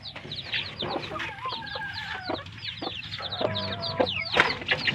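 A mother hen and her chicks in a cardboard-lined box give a near, continuous chorus of high, rapid cheeping with soft clucks mixed in.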